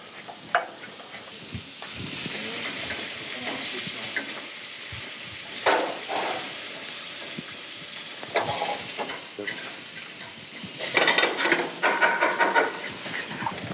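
Pigeon and trumpet mushrooms with shallots and parsley cook in a pan, giving a steady moderate sizzle and bubbling with occasional utensil scrapes and a brighter crackling burst near the end.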